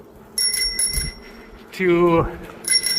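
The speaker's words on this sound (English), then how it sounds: "a bell instead of woo-hoo! Since we're on a bike here." A bicycle bell rings in short bright bursts during a sunny ride on the Raccoon River Trail loop, close and clear, with a person speaking briefly between the rings.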